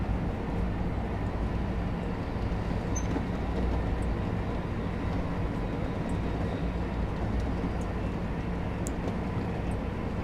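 Thameslink Class 700 electric train running at speed in Train Sim World 3, a constant dense rumble and rolling rail noise with faint clicks, steady and loud throughout with no talking.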